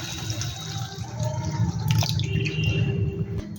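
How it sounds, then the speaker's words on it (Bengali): A bowl of milk is poured into cooked spice masala for a paneer dish, giving a close, continuous liquid pour with soft splashing, no talking. "তো এবার আমি এতে দিয়ে দেব 1 বাটি দুধ।"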